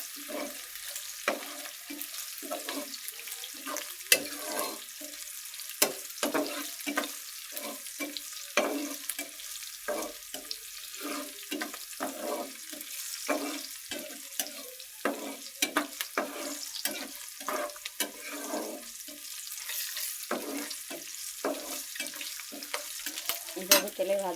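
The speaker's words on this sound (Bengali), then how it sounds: "এখানে আমি শুকটা পেঁয়াজ, কাঁচামরিচ, রসুন একসাথে তেলে ভাজিয়ে নিচ্ছি" Dried onion, green chili and garlic fry in hot oil, giving a steady close sizzle with repeated stirring scrapes and clinks, and no talk.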